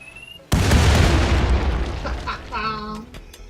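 An explosive detonates in RimWorld with one loud sudden boom that rolls off into a long rumbling decay. Faint tonal game sounds follow near the end.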